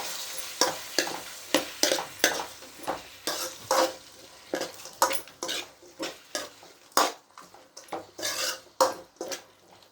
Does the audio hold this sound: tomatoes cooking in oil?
yes